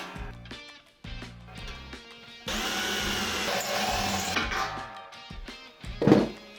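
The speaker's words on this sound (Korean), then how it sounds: "자 이제 구멍을 좀 뚫어볼게요" A drill bores a hole through thin Chinese-made stainless steel on kitchen equipment, with a loud sustained grinding whine in the middle, surrounded by intermittent clicks and clattering handling noises close by.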